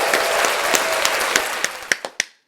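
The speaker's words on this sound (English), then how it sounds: "We'll give them an applause one more time." An audience applauds a state champion high school team, a dense wash of clapping with a few sharper claps standing out near the end before it quickly fades away.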